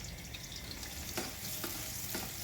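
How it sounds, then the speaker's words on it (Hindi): Chopped onion frying in moderately hot oil, a steady low sizzle with a few soft stirring scrapes, fairly quiet and close, no voices. "ऑयल जब हल्का सा गर्म हो जाए तो उसमें कटा हुआ प्याज डालकर उसको हल्का ब्राउन करेंगे"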